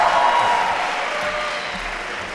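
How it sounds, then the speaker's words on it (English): Crowd of high school students applauding in an auditorium, dense steady clapping that stays loud and close throughout, slowly tapering slightly. "whopping round of applause"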